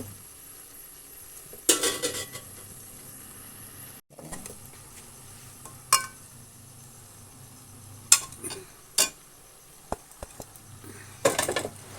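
Tomato, ginger and crushed green chilli stirred in a pan for Malappuram-style chicken biryani: a spoon scrapes and clinks against the pan in scattered bursts over a faint, steady sizzle, with no talking.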